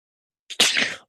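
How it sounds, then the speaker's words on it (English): One loud, close human sneeze with a short intake of breath before the burst, in an otherwise quiet room. "I'm so allergic to bad hiring that I started sneezing"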